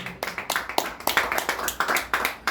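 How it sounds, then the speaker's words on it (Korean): Audience applause during a church sermon, a small group clapping in quick irregular claps at moderate volume. "박수 한번 해주세요."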